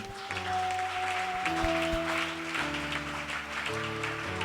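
A church congregation at a morning service claps and cheers in steady sustained applause, with a sustained organ or keyboard chord playing underneath.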